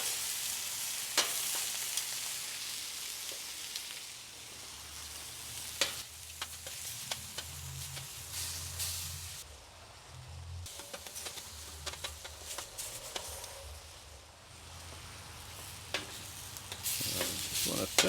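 Scallops sear in a griddle pan set on a kettle grill, giving a steady, close sizzle and frying crackle that runs throughout, broken by a few sharp clicks and scraping sounds of stirring and turning.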